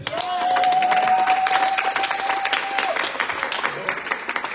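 A church congregation applauding and clapping for the Lord, a sustained crowd of hands clapping at moderate loudness with a brief held vocal tone and cheering mixed in.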